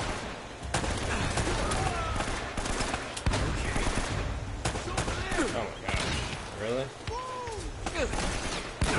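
Flaming-bullet gunfire in Uncharted: Drake's Fortune, rapid bursts of shots crackling through the action, with people talking over much of it.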